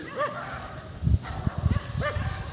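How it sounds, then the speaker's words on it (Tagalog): Dogs bark in a video game at approaching enemies, a few close, sharp barks in short bursts with rising yelps, amid in-game movement and clatter. "Nalaram ang kalaban sa kahol ng aso."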